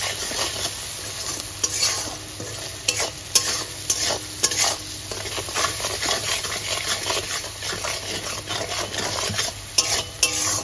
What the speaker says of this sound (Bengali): গ্যাসের ফ্লেমটাকে মিডিয়ামে রেখে এবার সমস্ত মশলাকে খুব ভালো করে কষে নেব।